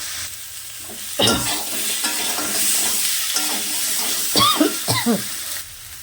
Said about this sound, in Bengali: এবার সুন্দর করে কষে দেবো তরকারিটা